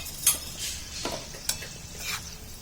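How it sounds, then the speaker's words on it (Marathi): Garlic pickle being stirred in hot oil, a steady sizzle with a few sharp scrapes and clinks of a spoon against the pan, close and fairly quiet. "आता आपण हे हलवून घ्यायचं आहे।"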